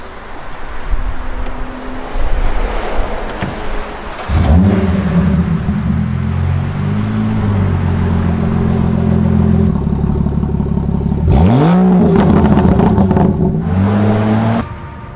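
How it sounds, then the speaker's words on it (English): A 500-horsepower concept car engine accelerating loudly up close, two separate surges with revs sweeping upward and holding high, joined by steady engine drone between them. "This is a concept car with 500 horsepower"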